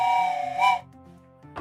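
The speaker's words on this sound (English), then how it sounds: "wants a train whistle" Train whistle in a video game, a loud sustained tonal whistle that bends in pitch before cutting off, followed by a brief quieter gap and the start of another blast.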